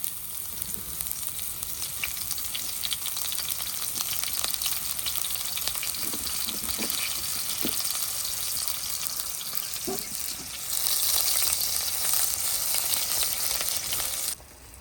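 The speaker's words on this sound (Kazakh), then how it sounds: "Пиязды қуырып болып жұмыртқаны салып жүрдім." Onion and eggs fry in hot oil in a pan, giving a steady crackling sizzle with occasional stirring clatter, the hiss swelling louder near the end before cutting off.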